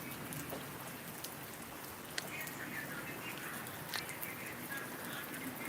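Rain pattering down outdoors in a village, a steady hiss with a few sharper drops and a faint bird call or two in the background, fairly quiet, no voices.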